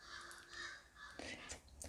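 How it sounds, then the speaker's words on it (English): Crows cawing outdoors as birds fly past, a few faint, distant harsh calls over a quiet background hiss. "I don't know if you can hear the birds,"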